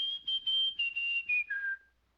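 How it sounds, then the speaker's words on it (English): A cartoon woman whistles a tune of several clear, short phrases, each a high steady note that steps downward in pitch toward the end before trailing off into silence. "Honey, I could listen to you whistle all day."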